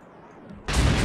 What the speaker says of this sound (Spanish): han empezado a disparar estas unidades de reconocimiento